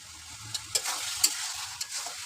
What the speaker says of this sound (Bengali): নেড়ে চেড়ে এখন নামিয়ে ফেলবো।